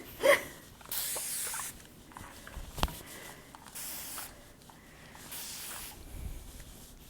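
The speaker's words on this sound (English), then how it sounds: "Now I got to spray some more water on it." Water is spritzed from a spray bottle onto a wig in a series of short, soft hissing bursts with quiet pauses between them, close by with no talking.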